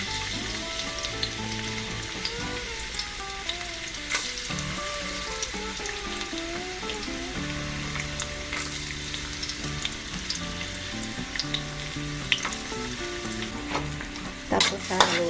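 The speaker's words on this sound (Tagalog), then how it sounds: "Ngayon po na mainit na itong ating mantika ay ilalagay na po natin itong ating bawang." Garlic sizzles in hot oil in a pan, cooked for beef tongue adobo, a steady crackling fry with occasional spoon scrapes and clatters, loudest near the end, with no one speaking.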